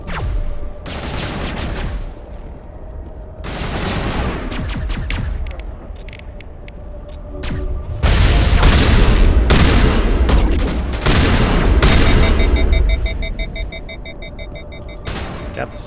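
Gunfire and explosions in the video game Mass Effect, with repeated shotgun blasts, bursts of firing and heavy booms coming in loud, uneven waves, with no talk over them.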